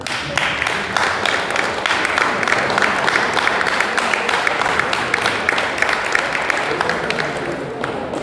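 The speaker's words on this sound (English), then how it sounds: "Nous allons applaudir très très très fort pour les mamans" Sustained crowd applause in honour of the mothers at a funeral gathering, a dense steady clatter of many hands holding at an even level for the whole stretch and tapering slightly at the end, with faint voices mixed in.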